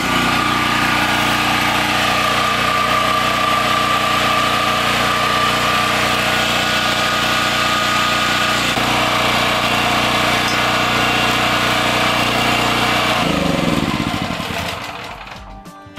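A Harbor Freight generator engine runs at a steady, loud, buzzing drone close by, then cuts out near the end and winds down into silence.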